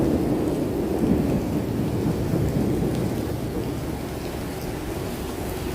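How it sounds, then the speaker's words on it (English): Heavy rain falling on a downtown Chicago street near Wabash and State, a dense steady roar of downpour with a low rumble, close and loud with no talk. "It's raining pretty good."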